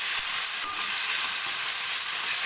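Chicken for pickle frying over a low flame, a continuous close hiss and crackle with occasional light stirring knocks, even and unbroken, no speech.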